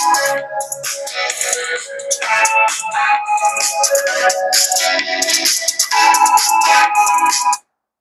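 A Nothing Phone 2 plays audio through its built-in speaker, a loud, steady stream of bright, tonal sound lasting about seven seconds before cutting off abruptly.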